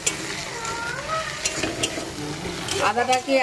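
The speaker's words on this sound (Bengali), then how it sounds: "আদা রসুন সব মশলাগুলোকে আমি ভালো করে একটু ভেজে নিচ্ছি।" Ginger paste, garlic and spices sizzle steadily in a pan, with a spatula scraping and stirring through the hot oil and a louder burst of frying near the end.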